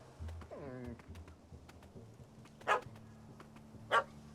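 In The Witcher 3, a puppy gives two sharp, close barks spaced about a second apart over quiet ambient game sound.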